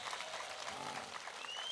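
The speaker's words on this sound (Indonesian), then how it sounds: "Tepuk tangan untuk NU dan Muhammadiyah" A crowd at a Ramadan religious gathering applauds for NU and Muhammadiyah, a steady, faint, dense wash of clapping throughout.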